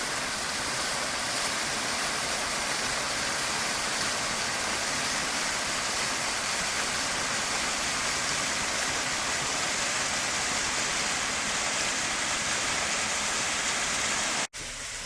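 A mountain waterfall running strong, its full, steady roar of falling water loud and close and unbroken throughout, with no voices over it.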